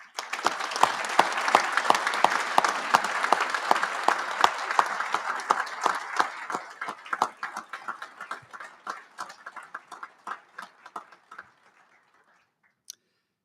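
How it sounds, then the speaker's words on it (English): An awards luncheon audience claps for the families of Marines, crisp individual claps loud and dense at first, then thinning into scattered sparse claps that die away into silence near the end. "Please join me in a round of applause for these families."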